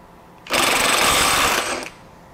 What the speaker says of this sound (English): when I break this free, you see it goes real slow